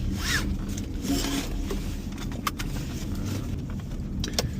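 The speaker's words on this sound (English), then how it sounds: "Better put the seatbelt on before I'm arrested." A car seatbelt is pulled across and buckled inside the vehicle: a rubbing, zipper-like slide of webbing with a few sharp clicks, close and alone against a low cabin hum.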